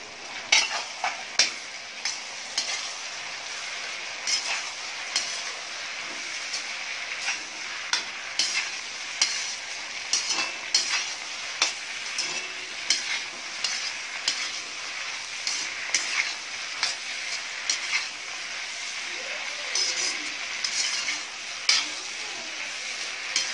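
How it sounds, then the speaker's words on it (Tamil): Okra, 350 grams, sautéing in a pan with softened tomatoes, a continuous sizzle broken by frequent sharp scraping clicks of a spatula stirring at a loose, uneven rhythm. "இப்போ இதில் நம்ம வெண்டைக்காய் ஆட் பண்ணிக்கிறோம்."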